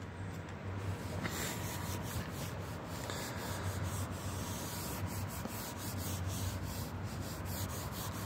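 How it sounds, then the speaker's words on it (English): A cloth smeared with Colgate fluoride toothpaste rubs hard across a van's plastic headlight lens, a steady, close, continuous scrubbing that pulses with each back-and-forth stroke and carries no voices. "So literally just fluoride toothpaste, Colgate toothpaste, and a cloth."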